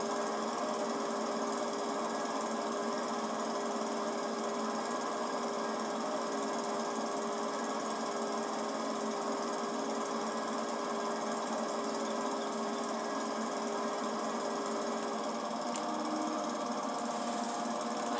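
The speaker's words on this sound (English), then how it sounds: "Most worst lawnmower I ever owned for cutting grass." A lawn mower's small engine drones steadily and loudly throughout, a constant rattling hum with no pauses and no voices.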